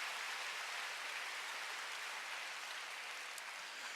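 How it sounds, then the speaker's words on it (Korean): A church congregation claps hard at a sermon, a dense continuous wash of many hands with no pauses and no voices over it. "박수 좀 세게 쳐봐요"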